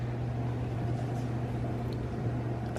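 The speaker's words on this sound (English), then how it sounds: "Then I'm gonna pop it in the microwave." A steady low mechanical hum with a constant drone, like a microwave oven running, with no voices.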